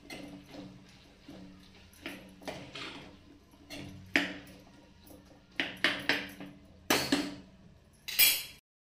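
A spoon mixes biryani masala, Kashmiri red chilli and coriander powder into vegetables in a pan, giving a steady run of close metallic clinks and scrapes, some sharper, others softer.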